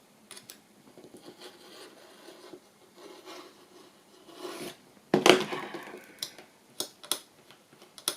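Trimming a Christmas journal cover, soft scraping and rubbing strokes building to a sharp louder cut partway through, then scattered light ticks and taps, close and fairly quiet with no talking.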